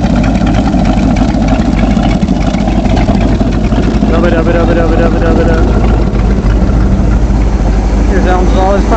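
Engine idling right after being restarted, a loud steady rumble close by, with voices talking over it in the second half.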